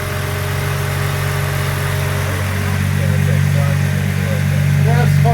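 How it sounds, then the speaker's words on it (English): A race car engine idles steadily with a deep, rough rumble, swelling slightly louder toward the end; voices talk faintly underneath. "now we have a running race car."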